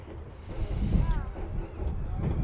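Wind buffeting the microphone at an evening outdoor NPSL soccer match between Orange County FC and Temecula FC, a steady low rumble and roar with faint distant voices underneath.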